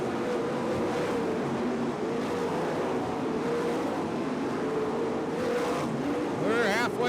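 Dirt track race cars roar around the oval in a steady, loud wash of engine noise, with an announcer talking over the pack throughout and a rising engine whine near the end.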